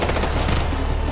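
Enemy machine gun fire in the video game Ghost Recon: Future Soldier, a short, loud, rapid burst of shots heard up close.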